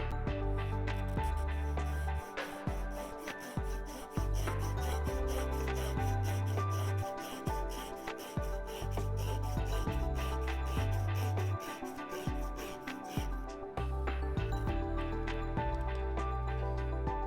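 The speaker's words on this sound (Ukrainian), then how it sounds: "Ось у нас невеличка гілочка, десь порядка 12-15 мм в діаметрі. Ну, пробуємо різати." An ARS IK-10-R bonsai pruning saw with set teeth cutting through a small branch about 12-15 mm thick, with steady back-and-forth rasping strokes, close and continuous, ending in a brief pause and a few final strokes.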